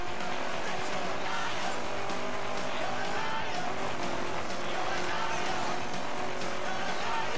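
A car drives in The Crew with a constant loud engine drone and road noise, steady throughout and unbroken, as speech-like sound sits under the mix.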